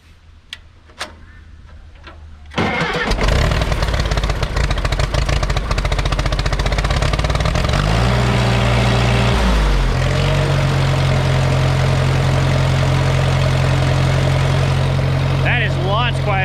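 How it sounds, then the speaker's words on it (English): A Case tractor's diesel engine sits quiet, then fires up abruptly and settles into a loud, steady, close-up idle with a constant low rumble and rapid ticking clatter. "So let's get this thing fired up and see how it sounds."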